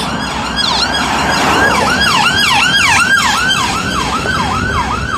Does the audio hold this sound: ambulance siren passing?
yes